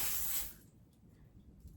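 A can of hair spray gives a brief, bright hiss lasting about half a second, then cuts off into quiet room tone.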